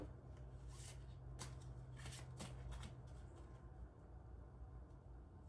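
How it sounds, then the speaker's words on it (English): Guidance cards are shuffled in a few soft, faint riffling bursts over a low steady background hum. "Time to pull a guidance card for what is coming next for you."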